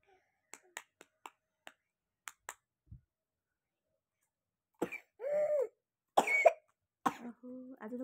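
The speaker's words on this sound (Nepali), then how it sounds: "आज त खोकी लागेको छ तिमीलाई त नि।" A child coughs a few times at home, short close bursts after a series of sharp clicks, with quiet pauses between them.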